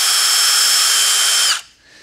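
Milwaukee M18 cordless impact driver spinning at speed 3: a loud, steady high-pitched whine that holds for about a second and a half, then cuts off abruptly and winds down to quiet.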